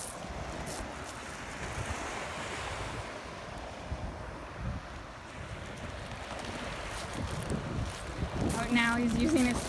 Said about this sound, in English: I don't even know if you can hear me because it's so windy